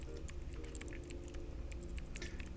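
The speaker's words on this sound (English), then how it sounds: "Pornographic keyboard noises." Quick, busy keystrokes on a computer keyboard, close-up and continuous, a steady patter of clicks with no talking.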